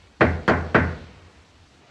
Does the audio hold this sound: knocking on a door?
yes